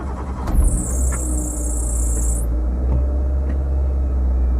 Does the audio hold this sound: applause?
no